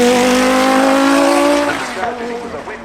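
Audi Quattro rally car driving up the Goodwood Festival of Speed hill climb, its engine loud and close with a sustained high note that fades as it passes, with a commentator talking over it.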